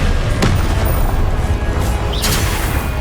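Spell blasts and booms from combat in Hogwarts Legacy, loud and dense, with two sharp crashing hits standing out against a continuous rumbling clash of effects.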